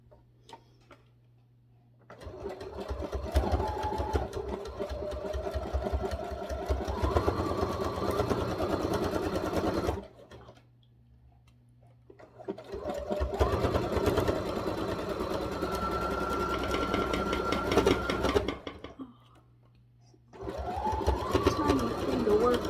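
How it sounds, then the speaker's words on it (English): A sewing machine stitches around small flamingo gnome fabric pieces in three sustained bursts with steady rhythmic whirring, separated by short quiet pauses with a low hum. "I'm just going to start stitching this around."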